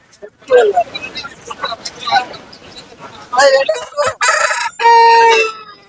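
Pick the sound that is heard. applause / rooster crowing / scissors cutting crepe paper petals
rooster crowing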